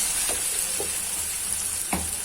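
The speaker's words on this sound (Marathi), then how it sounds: "खालून छान खालून असं हलवून घ्यायचं." Onion mixture stirred in a frying pan for kanda zunka, with a steady low sizzle and a few soft scraping strokes of the spoon, close and alone.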